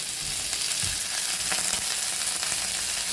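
Meat for adobong pata added to a hot pan and frying with browned garlic, a loud, dense, continuous close sizzle with a few soft stirring knocks.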